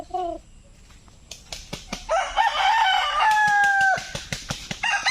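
A rooster crows loudly nearby among scattered sharp clucks and a few wing flaps from chickens, with other hens calling in the background.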